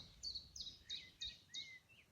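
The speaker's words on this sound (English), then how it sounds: "Birds coming closer." Several bright bird chirps in a quick series of short calls, fairly close, over a quiet outdoor background.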